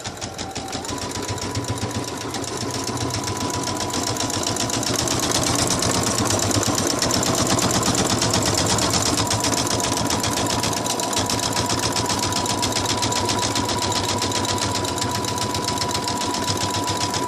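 An embroidery machine stitches a die line for a glitter vinyl applique, its needle running in a fast, steady mechanical rhythm with a constant hum, close and continuous throughout.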